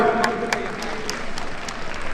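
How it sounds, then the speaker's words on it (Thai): Audience clapping at a press launch event for the Zeekr 7X car in Thailand, a short burst of moderately loud applause from a crowd in a hall, with a voice faintly underneath. "ว้าวขอเสียงปรบมือครับ"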